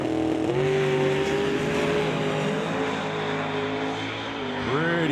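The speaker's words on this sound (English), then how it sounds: "And he gets the turbos wound up." A turbocharged drag racing car roars down an eighth-mile track, a loud sustained engine note with its pitch climbing as the turbos spool up, then a brief shift-like dip near the end.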